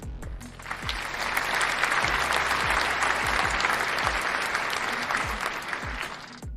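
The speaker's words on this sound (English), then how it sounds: "I think I deserve a round of applause, right?" Steady audience applause from a crowd at a cannabis-themed talk show, dense and sustained over several seconds with a few louder individual claps standing out, fading slightly at the end.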